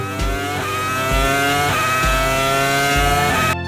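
A Formula 1 V10 engine screams at high revs, loud and close, with several quick rev surges and gear-change dips before cutting off abruptly.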